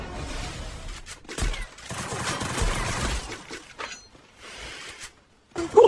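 Gunfire in the mobile shooter Free Fire comes as rapid bursts and scattered sharp shots, with brief pauses between volleys and a final loud crack at the end.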